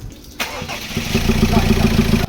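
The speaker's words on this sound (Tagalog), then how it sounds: "Okay, engine start!" A Ford Ranger 2.2 engine, which has water mixed into its oil, cranks and catches with a loud starter burst, then settles into a steady, throbbing idle close by.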